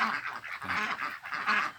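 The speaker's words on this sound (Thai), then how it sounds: "เป็ดอี้เหลียงนะ ที่ได้เลี้ยงไว้ก็ตอนนี้ขณะนี้ก็สี่เดือนกว่าแล้วนะครับ" Yi Liang ducks around four months old, moulting and close to laying, give a run of loud, nasal quacks and honks in repeated bursts, close by with no talking.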